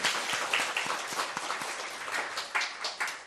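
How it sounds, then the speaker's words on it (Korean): A church congregation at a Thanksgiving worship service applauds to encourage graduating high-school students, producing a dense, moderately loud crowd clapping that rises and falls slightly across the few seconds without any talk over it. "박수 쳐줄까요?"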